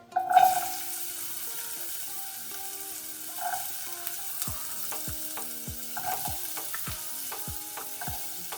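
Carrot hitting a hot frying pan for flatbread with vegetables, a brief louder sizzle at first that settles into a soft, steady frying hiss with occasional light pops and clicks.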